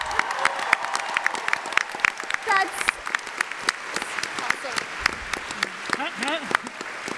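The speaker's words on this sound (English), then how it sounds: "Give him a big round of applause," Applause from a Comic Con 2016 panel audience for The Big Bang Theory, steady clapping through a large hall, with speech and laughter-like voices over it throughout.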